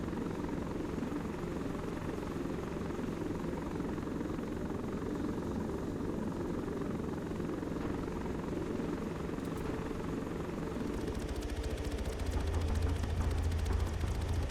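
A helicopter in the Arma 3 combat flight game flies low and sets down in a confined urban landing spot, its steady rotor and turbine roar filling the scene, with the tone shifting deeper and heavier near the end as it settles.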